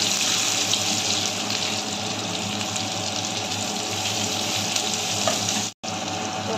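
Garlic, onion and green chillies frying in hot oil in a home kitchen give a steady, close, loud hiss that holds throughout, cut by one brief drop to near silence late on.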